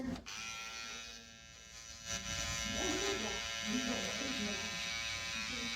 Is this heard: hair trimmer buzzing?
yes